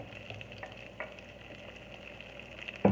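Chopped onions browning in a frying pan give a steady, moderate sizzle close by, with a few soft taps of a utensil and a sharper knock at the very end, and no voices.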